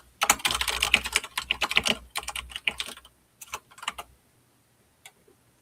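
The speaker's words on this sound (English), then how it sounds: "I can hear you typing." Rapid computer keyboard typing picked up by a microphone, a dense run of clicky keystrokes for about two seconds, then shorter bursts and a few isolated taps, close and clear with no talking.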